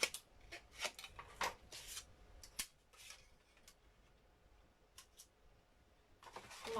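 Scissors trim paper scraps for an art journal page: a quick cluster of close, crisp snips early on, then a few sparser, quieter cuts against a faint hush.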